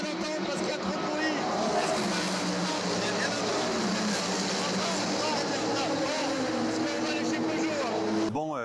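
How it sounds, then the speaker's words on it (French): Race car engines roar continuously in the background at the 24 Hours of Le Mans during the race, a dense loud drone with someone speaking over it throughout. "il y a des bruits de moteur derrière puisque je vous rappelle que la course bat son plein"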